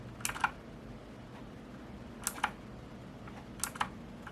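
Rampage Ardor gaming keyboard keys pressed in three separate bursts of sharp double clicks, close and fairly quiet against a faint background hum.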